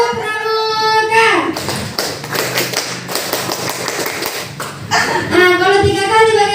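A group of schoolchildren performs the scout rhythmic clap, a quick patterned run of hand claps and taps between short spoken cues from a teacher, close and fairly loud.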